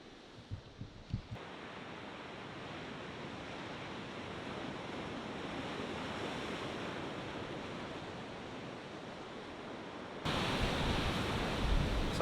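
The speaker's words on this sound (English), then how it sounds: "the waves are getting a bit more ferocious and getting a bit closer" Ocean waves crash against the rocks at Howick with a roaring, continuous surge of broadband noise, wind buffeting the microphone, growing louder and rougher toward the end.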